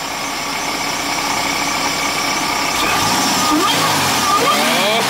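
Subaru BRZ fitted with an Innovate supercharger idling steadily with a high whine, then revving up in rising bursts toward the end, close and loud, with some background talk.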